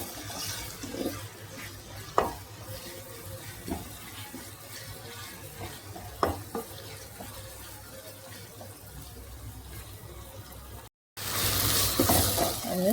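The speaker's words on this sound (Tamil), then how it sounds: "தக்காளி பாதி வதங்கிடுச்சு." Tomatoes with ginger garlic paste sauté in a pan for tomato kurma, giving a steady soft sizzle with occasional spoon stirs and scrapes, close and moderately quiet, with a brief gap near the end and no talking.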